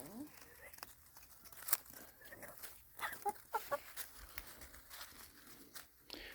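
Chickens eat juicy watermelon, some of them molted, with faint, scattered clucks and soft pecking and crinkling mixed among other quiet farmyard sounds.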